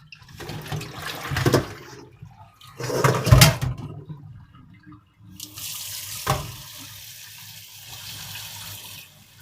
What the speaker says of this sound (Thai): แล้วก็จะล้างด้วยน้ำเปล่าจ้ะ เทออก